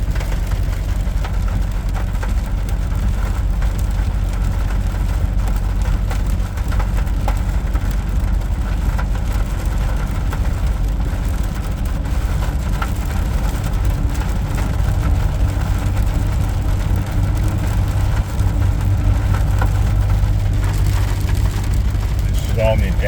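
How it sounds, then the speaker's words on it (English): Ford PowerBoost pickup truck driving on adaptive cruise with the turbo spooled up, a steady low engine drone and constant road noise throughout, with someone talking over it. "There's the turbo right there. Turbo's kicked in."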